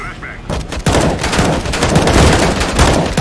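Rapid gunfire in the video game CS:GO, a dense string of loud, sharp shots that starts after a short pause and keeps going without letup, with a voice faintly underneath.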